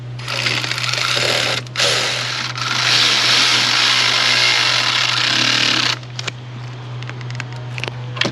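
A power tool working on a bolt of a PT Cruiser 2.4 engine, with a loud continuous whirring run for several seconds, a brief pause, then stopping and giving way to scattered clicks and rattles. Nobody speaks.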